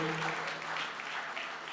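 Audience applause for a musician at a Haitian compas music talk, a steady wash of clapping with a faint lingering tone at the start, continuous and moderately distant.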